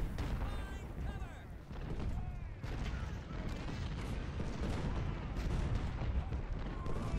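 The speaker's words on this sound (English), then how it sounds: "start creeping that artillery forward so that any units in the fortifications will get hit with exploding shell" Artillery firing exploding shells in a Civil War strategy game, a dense, continuous rumble of cannon booms and bursts layered with crackling musketry and distant battlefield noise, no one talking.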